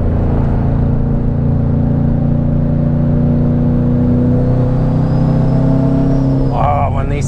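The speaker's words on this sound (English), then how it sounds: "Oh, when these turbos spool up, this is just sick." A 700 hp Ford Mustang GT with turbos under load, a loud, steady engine drone heard from inside the car with a rising whine as the turbos spool, swelling sharply at the end.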